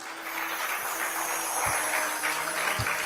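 An audience at a religious discourse applauds, a dense, steady clapping that fills the whole stretch at moderate volume with no voice over it.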